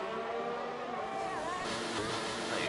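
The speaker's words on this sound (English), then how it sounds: "he's just revving it himself" A race car engine in a sim racing game revs steadily with a rising whine, loud and continuous with no talk over it.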